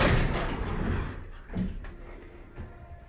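Vintage elevator doors, either Montgomery or Westinghouse, sliding with a soft rumble that settles into a thud and then a lighter bump, near and moderately loud in a quiet car with no talk.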